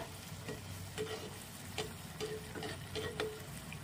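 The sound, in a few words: frying jackfruit pitha in oil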